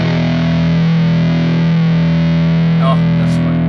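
Mooer GTRS S800 guitar with extra treble dialed in, sounding a loud, sustained distorted chord that rings steadily and alone throughout.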